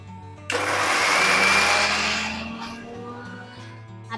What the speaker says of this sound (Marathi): आपण मिक्सर मध्ये कांदा खोबऱ्याचं छोटंसं वाटप टाकलं, त्यात कोथिंबीर टाकली.